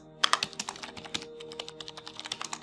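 Rapid, uneven keystrokes on a computer keyboard while writing a post description, close and fairly quiet, with a busy burst at the start and steady clicking throughout.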